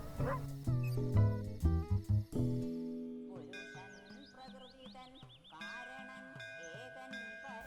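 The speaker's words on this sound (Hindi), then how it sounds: "सही समय पर कुत्ता तो बीच में आ गया।" A dog barks and yips in a short burst of loud, close calls, followed by a stretch of music with high melodic lines.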